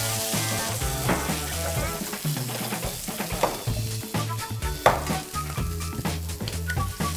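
Veal involtini searing in hot oil in a pan, a loud continuous sizzle close up with stirring and utensil knocks scattered through it.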